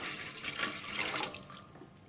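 About three cups of water poured into a cooking pan for masala chai: a steady, close splashing rush that swells and fades over two seconds, with no talking.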